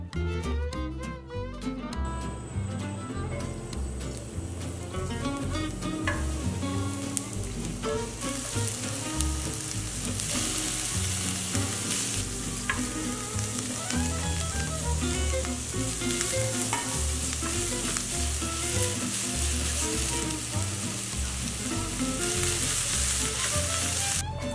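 Beaten egg white mixed with a little cornstarch fries in a pan as a garnish for Korean japchae, giving a steady, close sizzle with fine crackling that runs unbroken throughout, with no talking.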